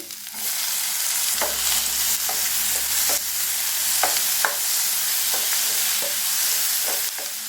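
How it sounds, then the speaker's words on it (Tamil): Onions and tomatoes fry in a pan with green chilli, ginger and garlic for a paneer gravy, making a continuous close hiss punctuated by regular scraping strokes of a spoon. "இப்போ வெங்காயம் நல்லா வதங்கிடுச்சு. இப்போ தக்காளி,"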